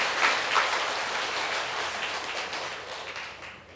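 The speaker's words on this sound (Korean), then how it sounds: "우리 하나님께 큰 영광의 박수 한번 드리겠습니다." A church congregation applauds during a worship service, a dense wash of clapping that starts strong and gradually tapers off toward the end.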